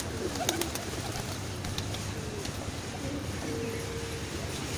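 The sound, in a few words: pigeons cooing at grandfather's house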